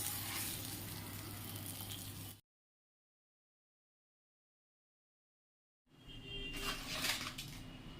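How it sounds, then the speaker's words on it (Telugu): Spices for tempering sizzle and crackle in hot oil, cut by a few seconds of silence, then the sizzling returns louder with sputtering pops. "ఈ విధంగా పోపు అయితే పెట్టేస్తున్నాను"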